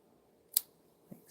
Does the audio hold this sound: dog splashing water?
no